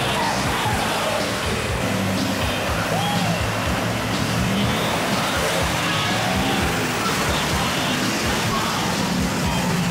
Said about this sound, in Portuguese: gravei de pertinho a passagem tranquila de alguns carros